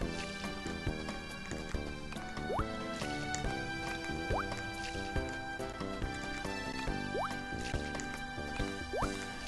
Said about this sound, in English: How about you water your crops first, dude?